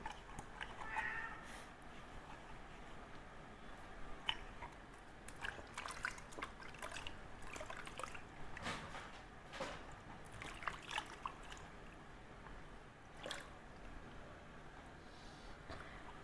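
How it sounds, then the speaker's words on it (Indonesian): An object is washed with water and soap, giving quiet, faint splashing, trickling and rubbing sounds in short irregular bursts. "Kita cuci."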